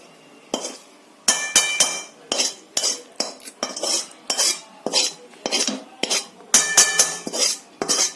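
Thick hot coconut barfi scraped and poured from a pan onto a ghee-greased plate, a run of sharp metallic clinks and scrapes of spoon on metal in uneven bursts, close and fairly loud, with no talking.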